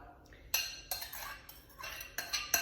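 Spoon mixing sugar into butter in a bowl for brownies, a run of close scraping and clinking strokes in irregular bursts, with no talk.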